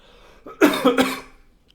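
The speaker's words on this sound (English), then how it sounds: "Still not over this cough." A single harsh cough, a couple of rough bursts close together, near and fairly loud, followed by quiet.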